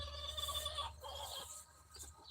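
Chickens cluck and murmur inside a coop at sunrise, a few soft calls close by and fairly quiet, with no talking.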